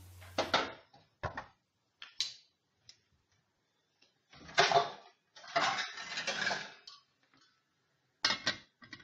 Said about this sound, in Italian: coprire con un coperchio.